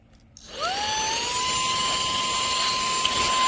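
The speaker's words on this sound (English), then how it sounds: "so you can use it like a blower" AUXITO cordless handheld car vacuum running as a blower: the motor spins up with a rising whine, then holds a steady, loud, high-pitched whir with rushing air for several seconds, close by.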